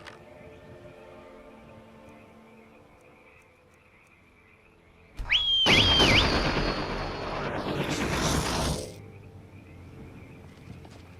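A horse-summoning whistle in Skyrim VR, a short warbling whistle followed by a loud roaring burst of noise lasting a few seconds before fading back to quiet ambience.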